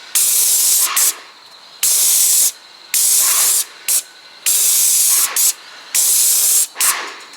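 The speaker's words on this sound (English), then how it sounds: "Going to spray a couple of coats of the Taubman's all-weather over them." A Wagner airless sprayer hisses loudly in repeated bursts of about a second each, separated by short pauses, as it coats 1940 metal wagon wheels with gloss all-weather paint.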